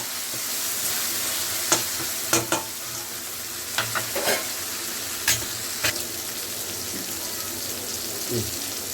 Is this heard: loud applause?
no